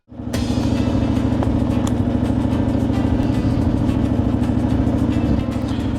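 A motorcycle engine starts and runs at a steady, throbbing idle up close, loud and continuous before dropping off at the end.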